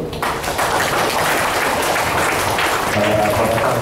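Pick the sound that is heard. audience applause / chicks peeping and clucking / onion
audience applause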